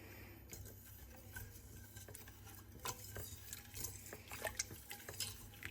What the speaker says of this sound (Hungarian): És folyamatosan azért kevergessétek, hamarabb olvad.